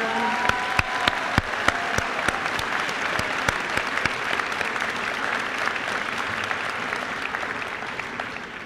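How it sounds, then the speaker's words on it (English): An awards-ceremony audience applauding alumni honorees at BHS, with full sustained clapping across the whole stretch, a few sharp claps standing out early before the sound eases slightly toward the end. "one more round of applause for our alumni honorees, everyone"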